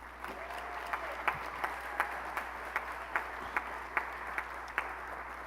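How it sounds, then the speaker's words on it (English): Scattered clapping at a business school hooding and recognition ceremony for graduating students, soft and distant, with sharper individual claps popping out at a steady pace over a quiet hum. "let's give a rousing round of applause to our graduating students today"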